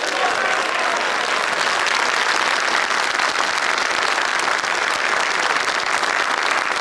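Studio audience at a televised 2012 São Paulo mayoral runoff debate bursts into dense, steady applause that fills the whole stretch at full, even loudness with no break.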